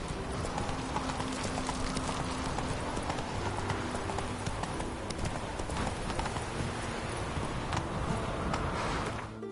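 Steady clip-clop of Roach's hooves as the horse travels in The Witcher game, a continuous rhythmic trot carried under ambient game sound from start to finish.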